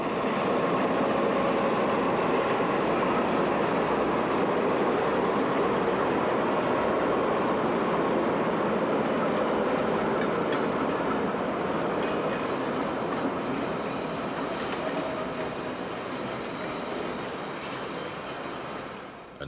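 Old freight wagons roll along rails in Italy with a continuous rumbling, clattering drone that stays close and steady, then fades slowly toward the end.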